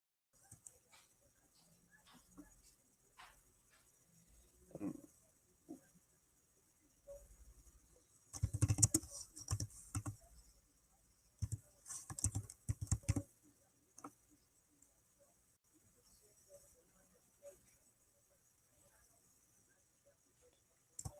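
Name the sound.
typing on a computer keyboard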